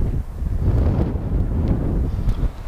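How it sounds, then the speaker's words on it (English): Strong wind buffets the microphone in a continuous low roar, rising and falling in gusts without any speech. "because it's really windy."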